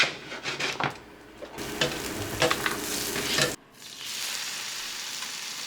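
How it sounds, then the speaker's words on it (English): Spanish mackerel and moonfish frying in Amish butter in a pan, a steady close sizzle with bursts of crackle and scraping for about three and a half seconds, then a sudden drop to a softer, quieter hiss. "So I'm putting all those in the pan with some butter"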